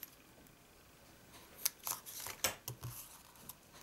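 Paper hand-trimmed for a domed-top gift box, a few short crisp cutting snips and rustles in quick succession, close and fairly quiet, with no talking.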